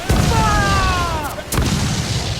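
Ship cannons firing in the Assassin's Creed 4 Black Flag video game, two loud booming blasts a second or so apart with rumbling tails, close and heavy.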